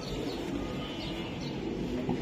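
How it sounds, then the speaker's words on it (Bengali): A racing pigeon coos softly and close by in a quiet setting, a low murmuring call with a faint chirp near the end and no speech. "এই যে আরেকটা কবুতর আমি দেখাই"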